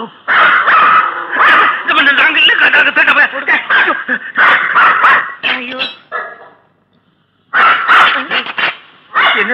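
A dog barks repeatedly in close, loud bursts with yips and whimpers in a Tamil comedy film scene, broken by a brief pause before more barking.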